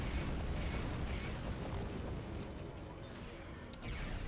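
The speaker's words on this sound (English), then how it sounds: "They targeted the torpedo just as I launched it." Torpedo explosions during a space battle against a Borg cube in Star Trek Online form a dense, continuous booming rumble that fills the whole stretch, with a brief sharp burst near the end.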